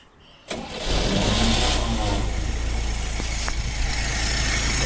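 A 1969 International Scout engine catches after a short quiet moment, then runs loud and close with a steady rumble and a couple of sharp transients as it settles into a rough idle.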